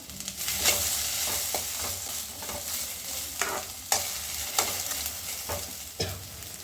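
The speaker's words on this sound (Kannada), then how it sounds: "ಇವಾಗ ಎಣ್ಣೆ ಕಾದಿದೆ ಬೆಂಡೆಕಾಯಿನ ಹಾಕೋತಾ ಇದ್ದೀನಿ ಇದನ್ನು ನೀಟಾಗಿ ಎಣ್ಣೆಲಿ ಹುರ್ಕೋಬೇಕು" Okra pieces frying in hot oil in a pan for a curd pachadi, a steady close sizzle with sharp stirring clatters and knocks every second or so.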